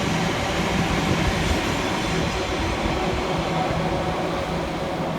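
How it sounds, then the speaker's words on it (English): An Elizabeth line passenger train pulls out of a station on the Great Eastern Main Line, a steady close rumble of wheels on rails with faint squeal and no voices. "next out to depart the 1411 Elizabeth line service through to"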